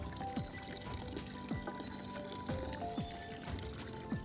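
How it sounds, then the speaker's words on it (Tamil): Liquid organic plant fertilizer poured and mixed by hand, with a steady wet pouring and sloshing texture and several soft repeated stirring swishes, close and moderately quiet. "நான் அதுக்கு தகுந்த மாதிரி கூடவோ குறையவோ ஊற்றி மிக்ஸ் பண்ணி எடுத்துப்பேன்."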